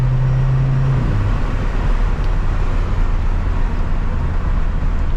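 Cabin drone of a 2016 Mercedes C250 Coupe with factory sport exhaust, a steady loud low engine hum with a brief tone drop early on as the car rolls along.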